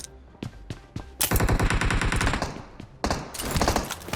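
An MP submachine gun fires in PUBG Mobile, a few single shots giving way to loud, rapid full-auto bursts with a brief pause between two long strings of fire.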